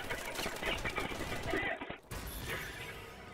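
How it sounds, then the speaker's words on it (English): Gunfire during a Call of Duty: Advanced Warfare multiplayer match, dense rapid bursts of shots and crackling impacts filling the mix, with a person talking over the game action. "As soon as I start shooting,"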